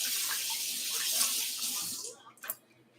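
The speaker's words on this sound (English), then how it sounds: "Let me rinse my hands off." Running tap water pours steadily over hands at a kitchen sink, a close, bright rush that cuts off after about two seconds, followed by a couple of faint drips and splashes.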